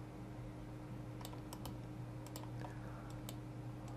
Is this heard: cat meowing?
no